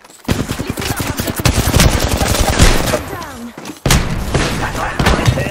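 Rapid gunfire in the battle-royale shooter Apex Legends: bursts of automatic weapon shots crackle in quick rhythmic volleys, a brief gap, then more firing resumes, loud and close with in-game effects mixed in.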